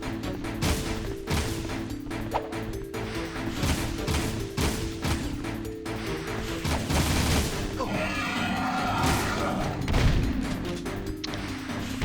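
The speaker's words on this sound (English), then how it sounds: "I just shoot the scattergun even when I'm out of range." Scattergun blasts in the Jak 2 video game, sharp booming shots repeated across a busy mix of game music, impacts and crashes, with a voice talking over it.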